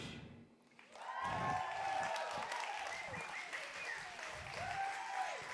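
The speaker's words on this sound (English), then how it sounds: "Give a warm applause to Jefferson!" A crowd at an awards ceremony claps steadily after a brief lull, applause swelling and holding for several seconds while a voice shouts and sings faintly over it.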